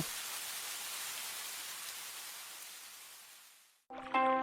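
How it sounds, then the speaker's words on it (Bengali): Heavy rain pours down in a dense, even hiss that slowly fades, then cuts off abruptly and is followed by a short burst of bright tonal sound. "বৃষ্টি শুরু হয়ে গেল"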